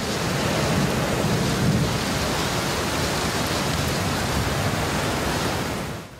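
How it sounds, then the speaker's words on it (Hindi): Heavy monsoon rain pours steadily in Karachi, a dense continuous roar with low thunder rumbling underneath, loud and unbroken throughout. "बेशतर मकामात पर अब्र करम गरजा और फिर खूब बरसा।"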